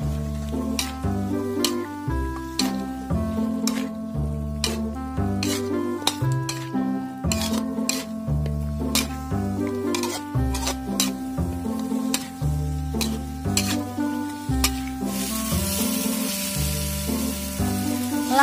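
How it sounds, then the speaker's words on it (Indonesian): Chicken feet are stirred in a pan for ceker mercon, with repeated rhythmic metallic scrapes and clinks of a utensil against the pan over a low sizzling bed, close and continuous without speech. "langsung aja masukkan cekernya dan aduk-aduk sampai merata"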